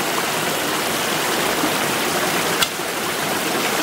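A stream on a farm flows in a steady, dense rush of water, close and continuous, with one brief faint click partway through.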